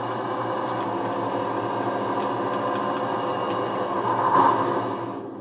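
Truck engine in the video game SnowRunner, a modded truck driven in high gear, holding a steady loud drone with rising revs and a brief surge near the end, no talk.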